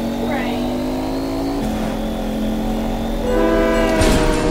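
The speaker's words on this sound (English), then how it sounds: "You ran right into the train." A train in the Fortnite video game rumbles past with a sustained, loud horn blast and rising engine noise, with players talking over it.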